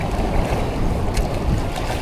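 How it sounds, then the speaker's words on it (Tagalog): Strong wind roars across a boat at sea near Dinahican, with buffeting against the microphone and rushing water, a steady, loud, dense noise with no talk. "Lakas ang agos at saka hangin."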